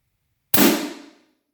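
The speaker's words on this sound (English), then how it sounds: "We're gonna do that high power shot one more time just because I think I shot that into the table" A high-power Griffin shotgun slug fired into ballistic gel, a single sharp, loud blast that cuts in from silence and rings out briefly with a decaying tail, close by and alone.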